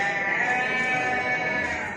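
Sheep bleating at a livestock market selling sheep and goats, a continuous loud bleat, close and alone without talk.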